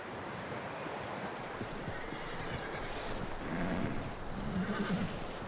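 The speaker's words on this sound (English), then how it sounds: "That looks like a decent horse." A horse's hooves clip-clop steadily in Red Dead Redemption under a wash of wind and ambient noise, with a brief low snort or whinny toward the end.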